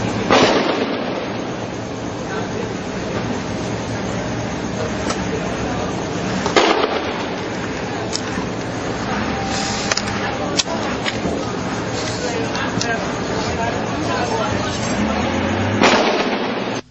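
Heavy gunfire during street clashes with security forces on Red Hills Road in Jamaica, sharp reports over a dense, loud continuous din, with bursts standing out at intervals and voices mixed in.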